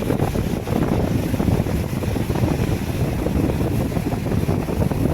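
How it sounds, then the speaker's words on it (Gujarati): Big sea waves surge and churn around boats on open water, a loud, steady roar of surf mixed with gusting wind buffeting the microphone, with no voices. "જો ફેમિલી ત્યાં મોજા ઉછળતા ઉછળતા જાય છે"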